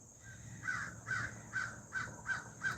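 Crows caw six times in a steady rhythmic run, each call harsh and moderately near, against a quiet outdoor background hum with no talking.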